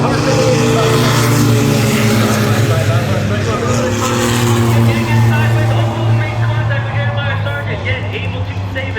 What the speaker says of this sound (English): Michael Yetton now gonna bail off into turn 3 and 4